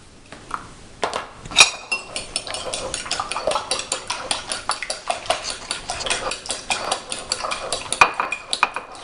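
An egg and pepper being beaten in a bowl, heard as a fast run of clinking metal-on-dish taps and scrapes, close and fairly loud, with a few brighter pings along the way.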